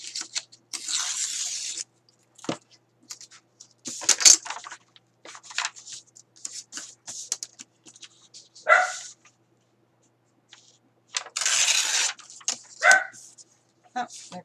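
A dog barks repeatedly in short bursts, some sharp and close, with pauses between and faint talking mixed in.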